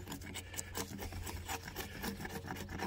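A beveled blade tool scrapes bark from a log while building a deer-proof fence, giving quiet repeated rasping strokes in a steady back-and-forth rhythm, close by.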